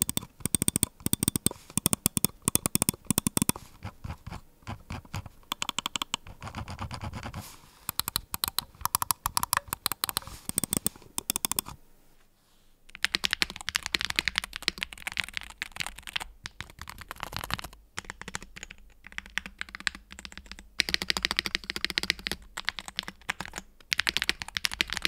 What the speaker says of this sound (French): Je vous propose maintenant un sound test rapide de la souris ainsi que du clavier,